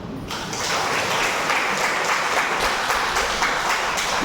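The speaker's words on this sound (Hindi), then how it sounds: "ताली तो बजाओ।" An audience at a spiritual discourse in Pithora, Chhattisgarh claps together, a loud, dense, continuous burst of applause that begins almost at once and holds steady throughout.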